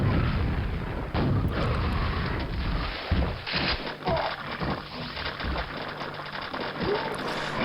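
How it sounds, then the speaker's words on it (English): Rockets fire and explode in Quake, with repeated booming blasts and rumbling impacts layered over dense, continuous game action noise, loud and close throughout. "firing a rocket behind you like that"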